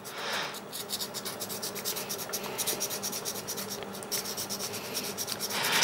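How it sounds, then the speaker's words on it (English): Worn, folded sandpaper gently rubbing a rough plastic edge on an airsoft pistol trigger part, a steady close rhythmic scratching of quick strokes without pause. "Fold it a little bit and just clean up the rough edge."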